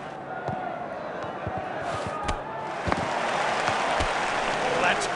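Steady roar of a large video-game stadium crowd in Dream Soccer 2019, a continuous wash of cheering with scattered sharp thuds and knocks, while a commentator's voice talks over it.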